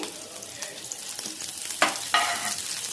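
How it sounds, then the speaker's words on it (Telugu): Curry leaves and sliced onions fry in hot oil in a pan, giving a steady close sizzle with a couple of sharper crackles and pops and no talking. "ఇలా కాస్త హీట్ అయిన తర్వాత కొన్ని కర్రీ లీవ్స్ యాడ్ చేద్దామండి."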